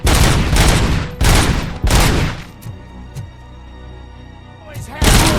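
Heavy gunfire from the video game RoboCop: Rogue City comes in three loud, booming bursts, then drops to a quieter stretch with faint thuds before another burst kicks in at the end.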